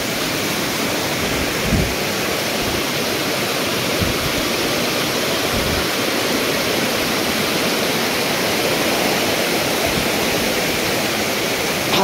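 A hidden waterfall near Khopoli roars in a dense, steady wash of falling water, loud and close for the whole stretch, with a few faint low thumps and no voices.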